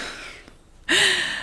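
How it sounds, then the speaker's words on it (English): A dog snores nearby in a Florida home, one long breathy inhale trailing off, a pause, then a sharp loud snort-like intake. "I'm sure you can probably hear my dog snoring in the background."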